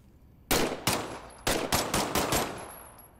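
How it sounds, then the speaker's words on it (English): A weapon is test-fired in the VR game Medal of Honor: Above & Beyond, with about six loud, sharp gunshots in an uneven sequence, each leaving a short ringing tail. "why don't you test fire your weapon?"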